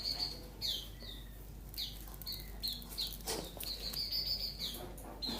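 Local grey-cheeked bulbuls (cucak jenggot) from Banyuwangi chirp repeatedly in a small group, with short bright calls scattered over steady background hum and rustle, fairly faint and with no voices.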